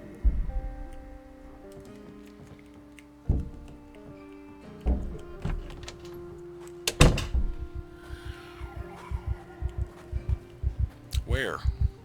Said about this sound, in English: I hear something beating on a door or window already.